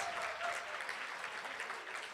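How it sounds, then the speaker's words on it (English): Audience in a room applauding educators, a dense, sustained round of clapping from many hands throughout, with no speech over it. "can we give a big round of applause for our educators in the room?"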